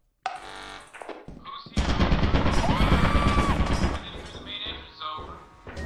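Automated turrets in a video game open fire, a loud sustained burst of rapid gunfire running for a couple of seconds amid clanks and thuds, with shorter shots before and after.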